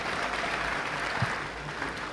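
Applause from an audience at a political gathering in Indonesia, a dense even patter of clapping held at moderate level throughout, with a faint voice underneath.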